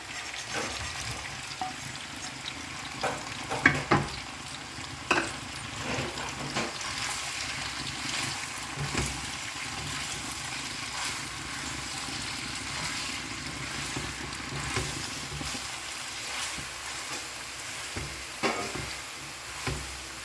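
A spoon stirs macaroni and roasted paneer in a pan, scraping and clinking in irregular strokes over a light sizzle, close by with no speech.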